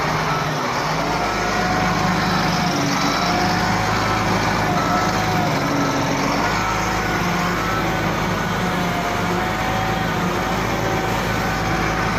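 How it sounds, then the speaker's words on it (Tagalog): A Sunward 3 cubic meter wheel loader backs up, its diesel engine droning loud and steady at close range with a faint whining tone riding over the rumble. "Sabit tayo dito sa wheel loader na Sunward"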